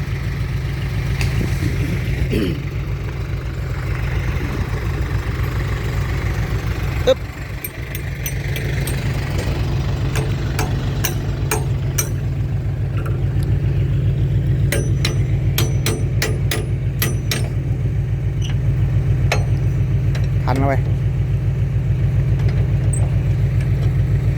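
A tractor engine being driven down off a dirt pile drones steadily and loudly throughout, a low constant rumble with scattered sharp metallic clanks and knocks riding on top.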